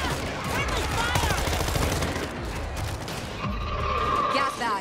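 Sustained automatic gunfire from a World War Z zombie shooter fills the scene with dense, continuous bursts at close range, carrying on almost without pause while a voice calls out over the shooting.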